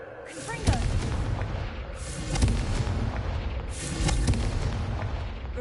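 Three heavy booming explosions from the Confringo spell in Hogwarts Legacy, spaced about two seconds apart, each a sharp blast trailing into rumbling debris, fairly loud with faint voices underneath.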